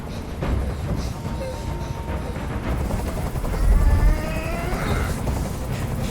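A steady, dense rotor drone of a hovering helicopter in the video game Detroit: Become Human fills the clip, with a rising mechanical whine near the end.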